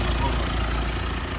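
A Mitsubishi Montero Sport GT automatic, made in Thailand, idles on its 2.4-liter turbo diesel engine as a steady, close, even rumble with no break.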